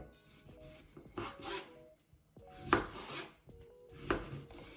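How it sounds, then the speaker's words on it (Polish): A knife chopping cucumbers on a board for crunchy sandwich pickles, in uneven bursts of quick scraping cuts with short pauses between them, close and fairly quiet. "Znowu mi ktoś pewnie zarzuci, że za długo kroję."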